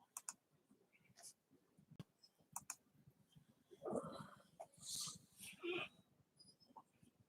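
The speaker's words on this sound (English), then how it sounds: "Keyboard." Scattered clicks and taps of a computer keyboard being typed on come through faintly and irregularly, with a few louder bursts of sound partway through.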